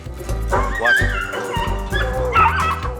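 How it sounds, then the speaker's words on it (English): Hunting dogs on a hot rabbit track yip, whimper and bark in a loud, continuous excited chorus, close by and without pause. "Once they get hot, they start squeaking, and the hotter they get, the more they start to bark."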